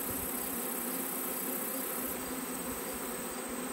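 Steady, dense buzzing of a honeybee swarm clustered on top of a hive, a continuous insect drone with no pauses, close and fairly loud throughout.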